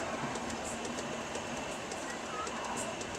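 The Chhattisgarh Express rolls along in India, a continuous rumbling rail noise with faint rhythmic clicks and a brief high squeal, steady throughout with no clear talk.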